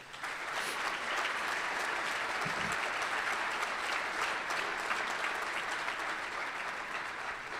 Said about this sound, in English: please join me by saying thank you with a round of applause